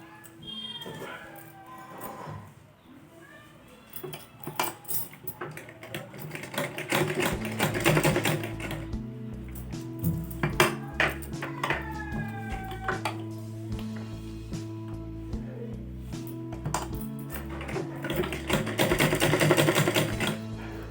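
A sewing machine stitches elastic into a leggings waistband, its rapid mechanical clatter running in bursts and growing louder and steadier through the second half, close by, with brief talk near the start.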